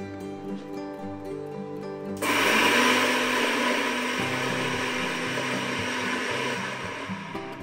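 A kitchen grinder whirs loudly as it pulverizes white mustard seeds and a little sugar into dry powder, starting abruptly after a quiet moment and running steadily to the end.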